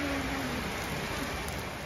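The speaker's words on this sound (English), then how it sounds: "the rain has officially started. How glorious!" Steady rain falls outdoors on the last day of September, a dense, even hiss of drops on surfaces that holds at a constant level throughout with no voices.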